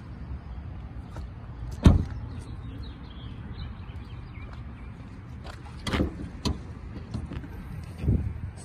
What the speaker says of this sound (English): Let's take a look under the hood.